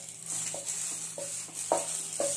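Banana leaves being toasted in a wok for hilsa cooked in banana leaf, with rhythmic scraping and rustling strokes about every half second over a faint steady sizzle.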